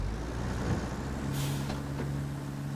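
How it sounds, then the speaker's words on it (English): A truck in the RoadCraft video game idles with a steady low engine drone, then releases a loud, sharp burst of air-brake hiss midway, followed by a softer second hiss. "I think we've got a truck just back here"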